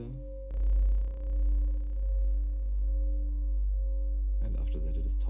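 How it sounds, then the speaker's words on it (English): A synth drone from a Drambo drone rack is fed through a comb filter, a sustained, humming tone with stacked resonant overtones and slow swelling pulses, ending in a rougher, more textured burst. "After that comes a comb filter,"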